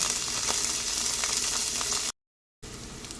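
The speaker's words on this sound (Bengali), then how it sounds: "তেল গরম হয়ে যাওয়ার পরে দিয়ে দিচ্ছি গোটা জিরে, আদা আর রসুন কুচিয়ে কেটে নেব।" Whole cumin, ginger and garlic sizzling in hot oil for egg fried rice, a loud, steady close-up hiss with faint crackles, briefly cut to silence before the sizzle resumes.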